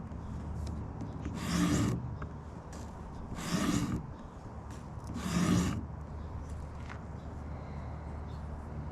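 A knife drawn across a stone on an Edge Pro Apex sharpening system, with diamond stones running from 80 to 4,000 grit: three slow, even rasping strokes, evenly spaced and fairly close, heard with no talk.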